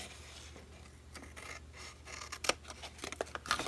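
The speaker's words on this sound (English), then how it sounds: "This one I'm cutting half of it off and then trimming to the left and to the right." Scissors cutting and trimming paper for a craft box, close, quiet snips and crisp slicing strokes in irregular bursts, growing sharper toward the end, no voice.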